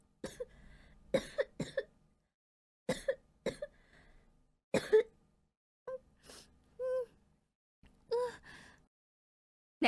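A sick child with a fever coughs repeatedly in short, separate fits, with gasps and moaning breaths between them, quiet and close in a calm indoor setting.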